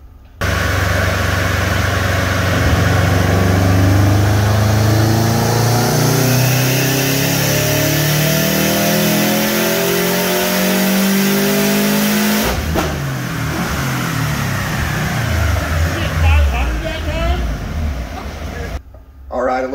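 A Subaru Legacy GT engine revs hard on a dyno and climbs steadily in pitch for several seconds, then drops off and winds down, loud and close with a droning roar.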